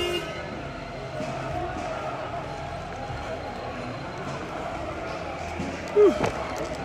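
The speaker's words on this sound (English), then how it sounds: "Those are people honking in support of the" Car horns honking on a city street during a protest, with a brief distinct toot standing out over a constant murmur of traffic and crowd noise.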